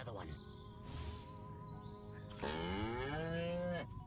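Cattle mooing heard as a game sound effect while an alien visits Earth: two long, drawn-out lowing calls, the second louder and sliding in pitch, with a brief gap between them and no speech.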